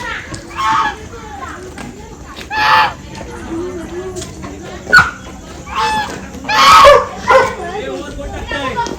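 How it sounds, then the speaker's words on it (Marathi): A dog barks in several separate bursts at a moderate distance at an adventure park while children's voices and chatter carry on around it. "बापरे, डॉगी मग कसं ओरडतोय."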